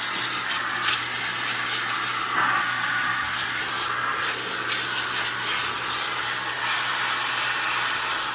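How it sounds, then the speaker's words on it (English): Steady, loud hissing rush of compressed air blowing debris out of a 2019 iPad 10.2-inch frame during a screen replacement, continuous and close. "I'm going to use my air to blow it out."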